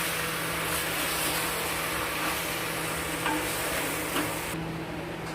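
Chicken frying in goat fat inside a clay wok, giving a steady, dense sizzle and hiss throughout with a few faint clicks and scrapes, close by and with no voices.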